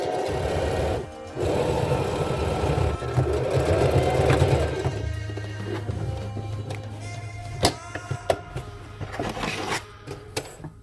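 A sewing machine stitches a face mask with an aluminum nose strip, starting with a short back stitch and then running steadily up close before stopping, followed by scattered small clicks and handling noises.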